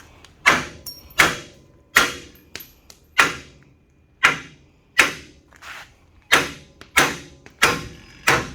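A hammer knocking cut bolts loose on an old bulldozer: a series of about eleven sharp metallic blows at irregular intervals, each ringing briefly, close and loud with no voices.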